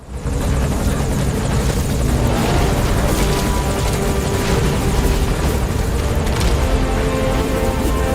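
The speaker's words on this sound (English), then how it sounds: "And there's our chopper." A helicopter arrives at a landing zone in Metal Gear Solid V: The Phantom Pain, its loud, steady rotor wash and engine roar filling the scene continuously with no talk over it.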